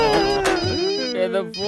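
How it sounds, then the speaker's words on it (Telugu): A mobile phone plays a loud, close melodic ringtone with bright, repeating electronic tones across the whole short stretch. "ఏదో ఫోన్ చూడరా"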